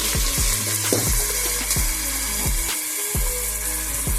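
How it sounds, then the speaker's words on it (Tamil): Chopped onions sautéed in a pan with green chillies until roasted give off a steady sizzle, cut by rhythmic scraping strokes of a spatula roughly every half second, close by and with no talking. "நல்லா ரோஸ்ட் ஆகிற வரைக்கும் வெங்காயம் வதக்கணும்."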